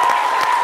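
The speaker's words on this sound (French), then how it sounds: "j'aimerais qu'on applaudisse Guy de Fer qui est là." A studio audience on a television midday show applauds a guest, a loud dense burst of clapping heard briefly at close range.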